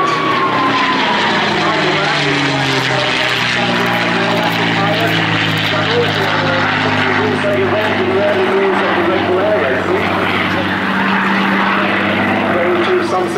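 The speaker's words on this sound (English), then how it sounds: "this wonderful Mustang, which more than makes up for it, as it comes across from the harbour side over the swimming pool" A P-51D Mustang propeller fighter flying past at a Jersey air display over a harbour, its loud, steady engine drone shifting in pitch as it passes close, with a commentator talking over it.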